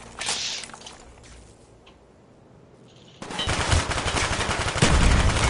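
Gunfire and grenades in a PS3 shooter game: a few sharp cracks, a quiet lull, then a sudden loud stretch of rapid, dense shots with one bigger blast near the end, all close and with no talk.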